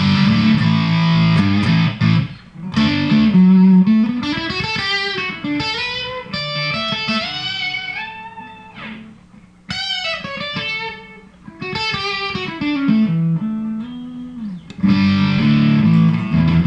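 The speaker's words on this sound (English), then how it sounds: "Okay, I'll go back to ultra with the distortion all the way down." Electric guitar run through a Keeley-modded Boss DS-1 pedal in ultra mode with distortion turned all the way down, playing loud, close chords and single-note melodic runs separated by brief gaps.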